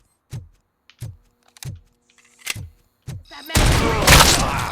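Gunfire in RoboCop: Rogue City on extreme difficulty, with five heavy single shots spaced about a second apart, then a sustained loud burst of shooting and explosive noise to the end.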